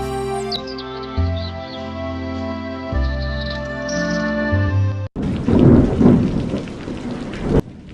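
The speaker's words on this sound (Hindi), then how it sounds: "झोपड़ी के बाहर बारिश हो रही थी" Steady rain pours down with a rumble of thunder, following a stretch of sustained tonal music before the downpour takes over.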